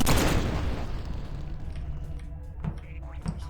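A barrel is shot and blows up in the video game Space Grunts, a loud boom at the start that decays into a rumbling tail, followed by a few small pops and bursts.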